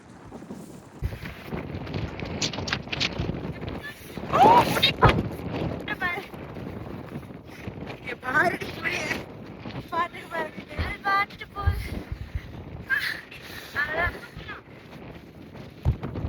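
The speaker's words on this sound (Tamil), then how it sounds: "ரொம்ப அப்படியே காற்று, பயங்கர காற்று." Strong wind roars and buffets the microphone high on a mountain, gusting loudly throughout while people talk over it.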